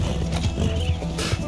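Horse galloping in Red Dead Redemption 2, a quick run of rhythmic hoofbeats, close and fairly loud, over a brief moment.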